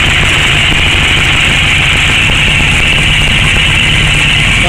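A Kawasaki KZ900 motorcycle engine idles steadily around 1500 RPM during carburetor synchronizing, a loud, close, even drone that holds without pause.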